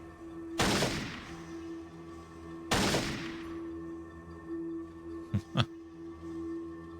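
Gunfire from the classic video game Fallout 2, two sharp, loud shot bursts a couple of seconds apart, followed by a pair of quick clicking mechanical sounds over a low steady hum.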